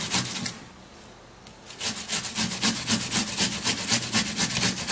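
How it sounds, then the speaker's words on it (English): An onion is grated by hand on a grater: a close, rhythmic series of rasping strokes, each one scraping firmly, following a brief pause. "I'm actually going to be grating all of this onion because we need much of onion juice"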